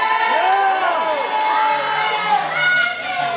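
A school assembly audience of children cheers and shouts together, a loud, sustained crowd roar of many overlapping young voices.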